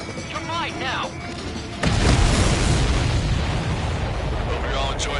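Explosions in Ace Combat 7 during an aerial mission: a quiet first stretch with faint higher tones gives way to a sudden loud, sustained blast that rumbles on with crackling debris until the end.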